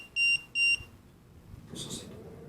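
Two crisp electronic beeps in quick succession come from a ghost-hunting detector at a farm, followed by near silence and a soft rustle.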